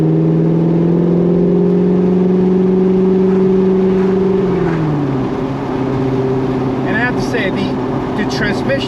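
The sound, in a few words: 2015 Corvette Stingray 6.2L V8 revving after downshift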